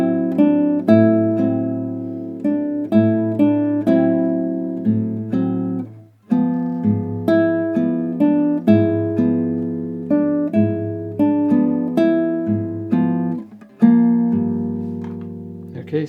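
Solo guitar strums a jazzy bossa nova chord progression, with rich sustained chords played in a steady rhythmic pattern, close and clear with no voices.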